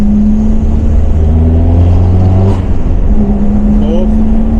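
A car engine with a glazed clutch revs in fourth gear, giving a loud, steady, close drone with a strong humming pitch that swells slightly and holds throughout.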